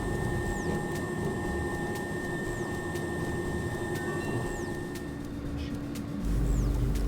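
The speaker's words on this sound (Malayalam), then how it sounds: "ഫ്ലൈറ്റ് മൂവ് ചെയ്ത് തുടങ്ങി. ഇനി നമ്മൾ അൽമാട്ടിയിലേക്കാണ്." Airplane on a runway at the start of a flight toward Almaty, a steady broad engine rumble with a whining hum that holds through the clip and swells slightly louder near the end.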